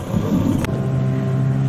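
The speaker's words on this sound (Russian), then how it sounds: "Вот к нам и едет уже подмога на моторе." A motorboat on a Siberian river in the Verkhoyansk Range approaches with a steady outboard drone and low rumbling hum, close and continuous, with a brief knock partway through.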